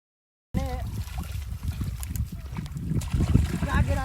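Irrigation water flows and trickles through a farm field in a steady, close splashing stream, with brief voices at the start and end.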